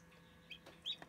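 A newly hatched chick gives a few short, high peeping chirps, faint and close, spaced irregularly over a quiet background.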